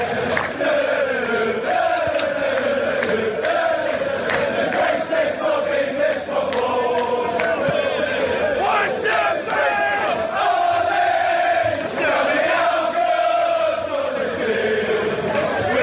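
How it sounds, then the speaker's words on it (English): Manchester United football fans singing a terrace chant, a large crowd voicing a wavering tune together in a loud, continuous, echoing mass of voices throughout. "a snippet of the latest Man United fan song that's been doing the rounds"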